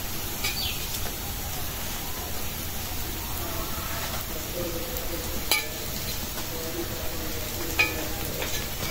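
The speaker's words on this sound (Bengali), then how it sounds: "একদম সুন্দর করে ভাজছি কম জালে" Food fries gently over low heat with a soft continuous sizzle and occasional clinks of a utensil against the pan.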